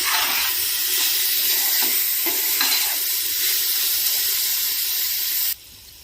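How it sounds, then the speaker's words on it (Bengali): Mixed vegetables frying with spices in a pan for vegetable pulao, giving a steady, close, dense sizzle that runs unbroken for several seconds before cutting off abruptly near the end. "সবজিটা ভালো করে আমি 10 মিনিট ধরে মশলার সাথে ভেজে নিয়েছি।"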